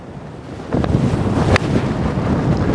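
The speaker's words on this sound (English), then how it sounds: "a big howling wind off the left" Strong, howling wind gusts across the Porto Santo golf course as a steady, close, roaring rumble that swells noticeably partway through and stays loud to the end, with no voices.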